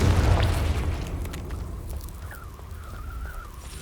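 A Confringo explosive spell blast in Hogwarts Legacy erupts with a loud, deep boom that decays into a rumbling fiery tail, followed by a faint rising whine.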